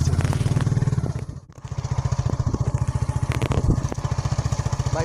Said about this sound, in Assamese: বাইকত উঠি ললো